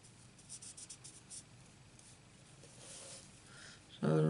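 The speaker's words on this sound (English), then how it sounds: "So let's just colour them in." Marker or pencil colouring in paper flower petals for a stamped card, giving soft, faint scratchy strokes in short bursts close by, followed by a brief louder handling noise at the end.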